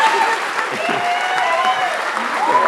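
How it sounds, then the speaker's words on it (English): Steady applause from an audience at a college nursing pinning ceremony, dense and sustained throughout, loud and filling the room, with a few voices mixed in. "please join me in applause in welcoming the nation's newest nurses"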